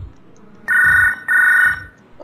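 A telephone rings twice in a clear electronic double burst, loud and close, with faint low background noise between and around the rings.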